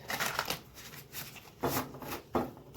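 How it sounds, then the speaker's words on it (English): Tarot cards being shuffled up close, soft riffling bursts repeating in an uneven rhythm, quiet and without any talking. "I'm going to do another shuffle."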